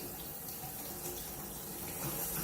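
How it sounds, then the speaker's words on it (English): Tap water runs steadily into a sink during handwashing, a continuous, close splashing hiss that holds at the same level throughout with no voices. "So first we're going to turn on the water."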